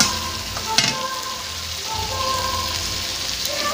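Prawns fry in spiced oil with a steady, close, dense sizzle that runs unbroken throughout, and a brief clatter comes near the start.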